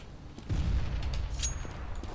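A grenade blast in the shooter game Counter-Strike: Global Offensive, a low rumbling boom that swells up and lingers for a second or two at moderate level, with faint game noise around it.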